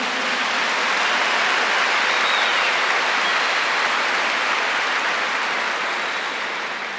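A church congregation applauding at a Catholic Mass, a dense, steady wash of clapping from many hands that fills the room evenly and fades slightly at the end, with no voices over it.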